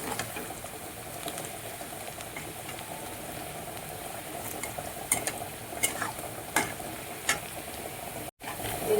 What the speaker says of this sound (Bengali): পেঁয়াজ আমার ভাজা ভাজা হয়ে গিয়েছে